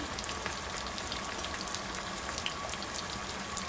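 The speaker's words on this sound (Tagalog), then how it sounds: "habang nagpiprito tayo" Chicken pieces sizzle and crackle steadily in a hot pan for buttered garlic chicken, a dense, even frying hiss with scattered pops running throughout, close up and with no talking.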